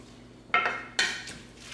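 Stirring chopped parsley into a spicy pasta carbonara with bacon and Parmesan: two sharp metallic clinks of a utensil against a pan, close and alone over faint background hum.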